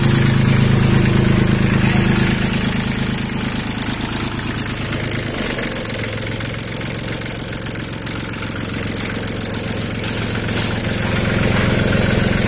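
A Japanese used Iseki tractor's diesel engine idles steadily at close range, a loud even low rumble with a slight knocking pulse throughout and no speech.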